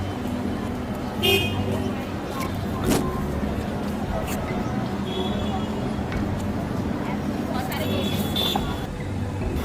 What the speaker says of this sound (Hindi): देखो कितना ट्रैफिक है, देखो।